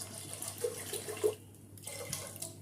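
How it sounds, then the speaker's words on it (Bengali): Water poured from above into a pot of boiling lentils on a gas stove, a steady splashing gush for about a second and a half before it quiets to low bubbling, with no talk. "জল দিয়ে ঢেকে দিলাম ফুটে ওঠার জন্য।"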